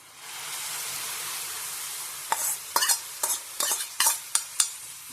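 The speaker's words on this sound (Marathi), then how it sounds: "तर आता आपण याच्यात गोलमो घालून घेऊया." Golmo dried shrimp tipped into jackfruit curry in a pan, a steady broad sizzle joined partway through by a series of sharp scraping and clattering stirs, close and fairly loud with no voices.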